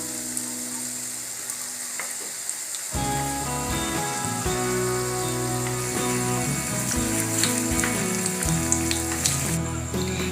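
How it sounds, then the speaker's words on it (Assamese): Egg and onion pakoras sizzle steadily in hot oil, a continuous crackling fry that music joins about a third of the way through. "এতিয়া বাকী থকাখিনিও এনেদৰে ভাজি ল'ম"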